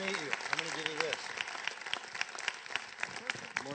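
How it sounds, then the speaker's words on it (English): A seated audience gives a round of applause at a financial health talk, steady dense clapping for several seconds with a voice speaking over the start. "All right, everybody, round of applause."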